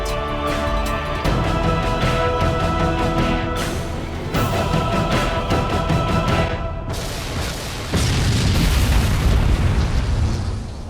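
Heavy booms and bursts as a giant Scarab walker is blown apart in the Halo Wars strategy game, repeated blasts rolling over dense orchestral score and battle noise, loud throughout.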